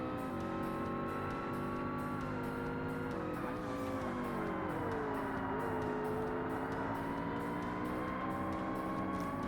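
A race car in Forza Motorsport roars continuously at high revs, with the engine over-revving through corners and tires squealing now and then, loud and steady with no talk.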